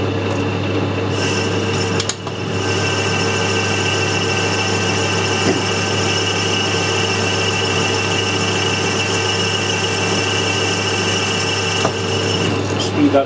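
A lathe turns a spacer for a Porsche wheel balancer in a shop, cutting metal into breaking chips: a loud, steady mechanical drone with a constant hum and a faint whine, running throughout.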